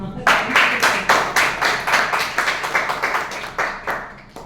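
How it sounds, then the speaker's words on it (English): Applause at a club meeting, about a dozen distinct bursts of clapping in a steady rhythm, fairly close and moderately loud, fading slightly toward the end. "So let us applaud her."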